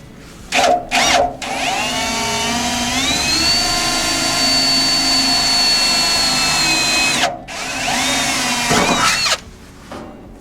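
A power drill whines loudly and steadily while drilling holes in a 1955 Ford F100 truck, with a few short bursts at the start and a brief stop before it spins up again near the end.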